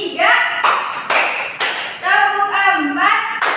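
A classroom group claps a counted concentration rhythm, with about seven sharp, close claps in a steady pattern. Voices chant between the claps.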